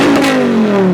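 A car with an aftermarket straight pipe exhaust gives a loud, close rev, a raw, raspy roar that sags slightly in pitch over under a second.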